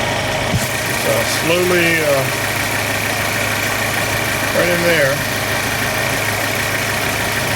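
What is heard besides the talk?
2012 Chevrolet Cruze turbo engine idling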